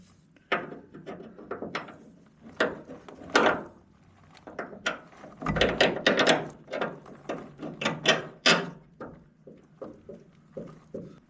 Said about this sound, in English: We'll run our bolt in.